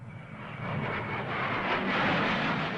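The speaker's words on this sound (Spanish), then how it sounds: "aviones Hunter británicos descendieron en picado sobre el Palacio Presidencial de la Moneda" British Hawker Hunter jet aircraft diving over the presidential palace, a loud broadband engine roar that swells and holds steady, with no voices.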